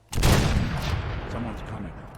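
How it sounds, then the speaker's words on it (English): Single heavy blast of a recoil-compensated punt gun in Fallout 4, a sharp loud onset followed by a long rumbling decay with game sounds under it. "Recoil compensated punt gun."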